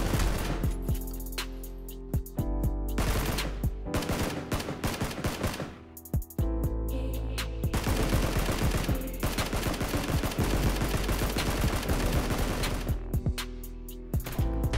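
Automatic assault rifle fire in PUBG at about 625 rounds per minute: loud, rapid sustained bursts of gunshots with brief pauses between strings, close and dominant with no voices.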